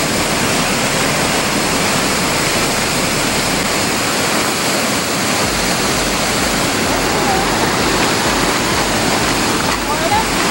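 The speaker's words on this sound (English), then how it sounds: "Cascading waterfall." Cascading waterfall near Iceberg Lake by the Icefields Parkway, a loud steady broadband roar of rushing water that stays constant and close throughout with no break.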